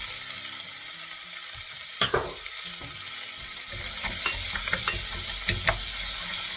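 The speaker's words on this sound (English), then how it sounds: "We're just going to cook our onions now." One thinly sliced whole white onion sizzles steadily in pancetta fat, with a couple of sharper stirring clatters and crackles breaking through the even hiss, close by, no voices.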